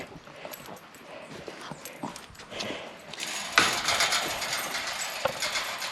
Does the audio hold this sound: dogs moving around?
yes